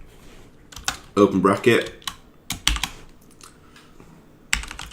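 Code being typed on a computer keyboard: bursts of sharp, close key clicks and clacks in uneven runs, with a voice talking between and over the keystrokes.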